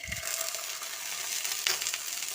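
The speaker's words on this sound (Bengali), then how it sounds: "এবার আদা ও রসুনের পেস্টটা দিয়ে পেঁয়াজের সঙ্গে আরও কিছুক্ষণ ভেজে নিচ্ছি" Reddish-browned onions fry with a spoonful of ginger-garlic paste for an egg curry, giving a faint, steady sizzling hiss with a couple of light stirring scrapes.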